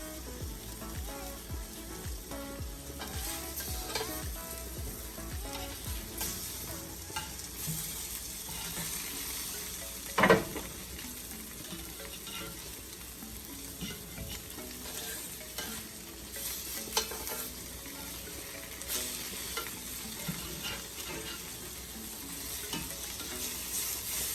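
Meatballs fry in a pan with a soft, steady sizzle that runs throughout, broken by faint stirring and clinks and one sharp utensil knock near the middle, heard alone at low volume.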